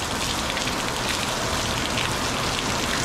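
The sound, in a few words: heavy rain pouring down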